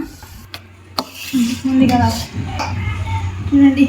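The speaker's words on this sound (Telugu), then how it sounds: "పులిహోర కలుపుతున్నా." Tamarind pulihora being mixed by hand in a pot in a home kitchen, with soft clinks of a vessel and a utensil scraping the pot. Voices talk over the mixing throughout.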